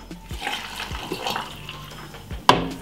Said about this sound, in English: And a glass of water,